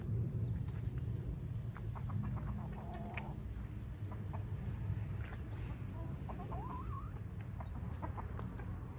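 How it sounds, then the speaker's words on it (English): Two roosters cluck and chirp in short bursts over a steady low outdoor rumble in a backyard near a pool, the calls moderately close and scattered across the scene. "My two roosters right there."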